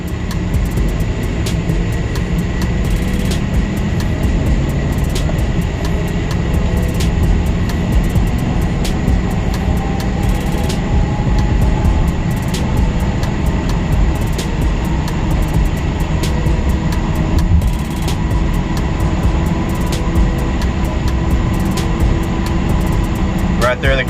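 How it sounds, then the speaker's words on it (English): A Chevrolet Silverado truck with a 3200 stall torque converter pulls away from a stop at part throttle, its engine drone and road rumble rising steadily under constant loud cabin noise, with faint rhythmic ticking throughout. "what we're gonna do here is just a normal takeoff, just getting up to speed, maybe quarter to half throttle from a stop"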